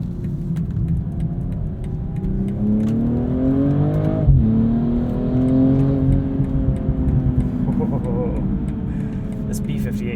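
2022 BMW M240i xDrive coupe with a B58 inline-six engine accelerating on the road from inside the cabin, engine pitch climbing, dropping with a gear change and climbing again, loud and close amid road noise.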